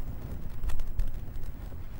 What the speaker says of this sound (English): Hey, it's dead windy up here.